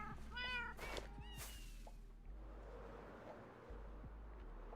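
A Minecraft cat from the video game gives a short burst of quiet, high, wavering meows over a steady low background hum, then the sound settles into faint noise.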